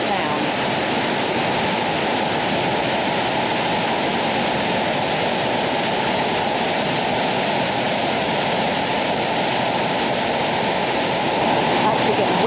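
The Gastein waterfall in the middle of Bad Gastein, Austria, roars close by, a dense, constant rush of crashing water that never lets up.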